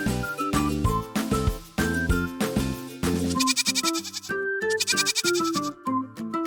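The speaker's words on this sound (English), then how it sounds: "Can you bleat like a goat?" Goat-like bleats recur over a busy, bright children's music backing, the cries loud and close and repeating in short bursts throughout, with no talking.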